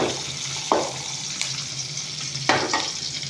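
Onions frying with salt in oil in a pan, giving a continuous close sizzling hiss with a few sharp clinks of a stirring utensil against the pan.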